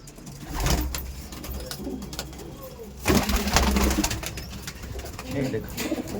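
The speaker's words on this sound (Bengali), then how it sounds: "এই দেখুন এগুলো সিঙ্গেল পায়রা, নর পায়রা আছে, দেখুন" Madras and Giribaz pigeons coo in a loft, low soft burbling calls repeating under faint background noise and rustling, heard up close without talk.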